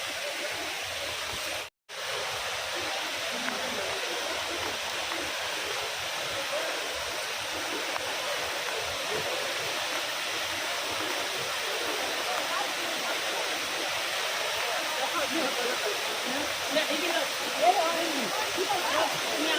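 Water at Sanaghagara waterfall in Keonjhar thunders in a continuous, even roar, close and full, with one brief dropout near the start and no pauses afterward.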